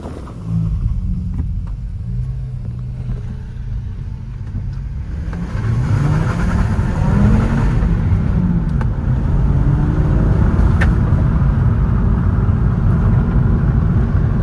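A VW Jetta with a 2.5-liter, 170-horsepower five-cylinder engine accelerates hard on gravel, its steady engine rumble swelling louder and rising as the pull builds, with no talking.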